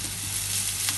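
Ginger-garlic paste and curry leaves fry in hot oil in a pan. The sizzle is loud, close and unbroken, with a faint stir near the end and no talking.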